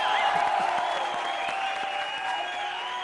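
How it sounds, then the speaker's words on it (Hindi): Applause from a comedy show audience fills the clip, steady and moderately loud throughout, mixed with musical tones and brief crowd noise. "जोरदार तालियां।"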